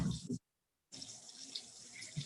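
Hot water pours from a water carrier during a hair wash, with running, splashing flow that stops for a moment of near silence and then resumes steadily at low level.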